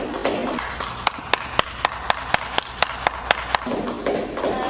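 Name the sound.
audience clapping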